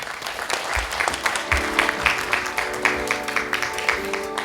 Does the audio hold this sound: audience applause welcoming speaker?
yes